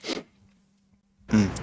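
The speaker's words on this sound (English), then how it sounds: "Excuse me, I had to sneeze." A single short sneeze, close and fairly loud, followed after a brief pause by another burst of breathy noise.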